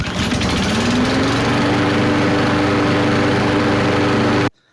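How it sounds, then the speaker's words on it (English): A lawnmower engine recorded from close range runs with a loud, steady buzzing drone that rises slightly in pitch early on and then holds level before cutting off abruptly at the end, with no voices. "I want to sample my lawnmower and put that in Pro Tools"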